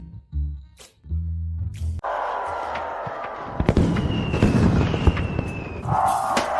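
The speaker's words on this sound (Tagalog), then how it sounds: "Ang galing ng mga fireworks na to at hugis sila ng mga paa ng pusa." A few low tones give way to a dense, sustained rumble of crackling bursts and booms, like fireworks going off at a distance.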